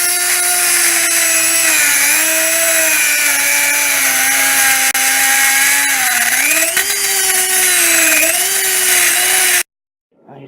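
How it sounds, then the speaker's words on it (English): A handheld grinding tool whines loud and close as it grinds the sides of a small metal piece flat for a homemade spring puller, its pitch wavering under load before cutting off abruptly near the end. "take the grinding tool, grind down each side till it's flat like I showed"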